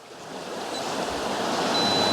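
A large body of water washes and churns in a steady broadband rush, like waves or surf heard close by, growing slightly louder with no voices present.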